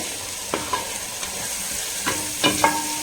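Masala stirred and frying in a pan over a high flame, a steady sizzle broken by a few scraping stirring strokes, close and moderately loud with no talking.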